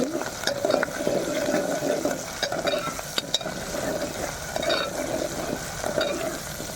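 Green chillies and tomatoes fry in a pan, giving a steady close sizzle with scraping and stirring clatter from a utensil throughout.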